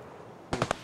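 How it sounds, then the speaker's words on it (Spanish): Gunfire in Escape from Tarkov: after a quiet stretch, three sharp, fairly loud shots ring out in quick succession, evenly spaced. "Me disparan a mí, ¿o qué? Están disparando a mí."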